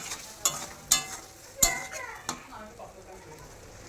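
Turmeric and spices for katla fish sauté in a pan under a low crackle, broken by several sharp spatula knocks and scrapes against the metal at uneven intervals.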